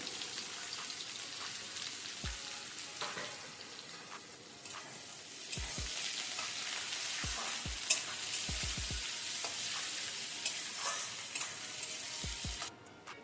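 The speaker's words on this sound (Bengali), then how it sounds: "দেখুন তেলে পেঁয়াজটা একটু ভালোভাবে ভাজবো" Onions fry in oil in a pan with a faint, steady crackling sizzle. Occasional dull knocks and stirring sounds come through over a long, even stretch.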